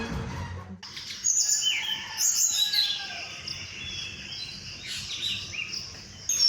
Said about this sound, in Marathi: सकाळचे वाजले 5 आणि पक्ष्यांचा आवाज बघा, सो पीसफुल.